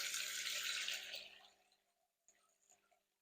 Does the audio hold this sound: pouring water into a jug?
yes